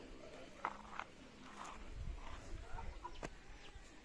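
Faint, scattered clucks from a few chickens in a coop come through a low, noisy outdoor background.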